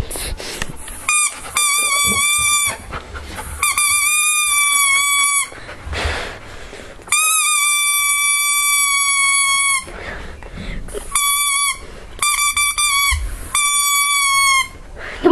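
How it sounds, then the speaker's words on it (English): Squeaky dog toy blown like a whistle in repeated long, shrill tonal honks with short gaps between them, loud and close, intended to set a dog howling. "All you do is you need to get a dog toy and get this out and blow it like this."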